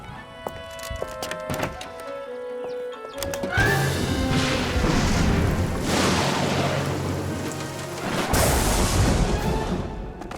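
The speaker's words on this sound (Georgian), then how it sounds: "ჭექა-ქუხილი მხოლოდ ხმაურია, მისი არ უნდა გეშინოდეს." Cartoon thunder: after a few sharp knocks, a loud booming crash swells and rumbles for several seconds, then a second burst of thunder cracks near the end.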